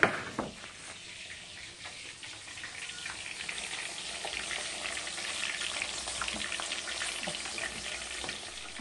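Milkfish (bangus) frying in hot oil, a continuous crackling sizzle with scattered pops and spatters, fairly close and moderately loud, with no talking.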